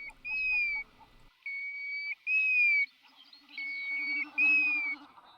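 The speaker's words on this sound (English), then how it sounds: "I love the call of a golden plover." A golden plover's clear, plaintive whistled call repeated five times in drawn-out notes on a moorland, close and distinct, with faint bird chatter in the background.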